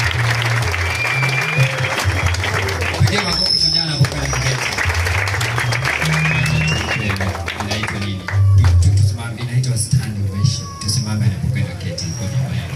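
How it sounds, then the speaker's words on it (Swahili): An audience applauds a spoken-word poet at a live poetry event, a sustained patter of clapping from a crowd with voices and cheers mixed in, growing louder toward the end. "Wewe unajampigia makofi anapokaa."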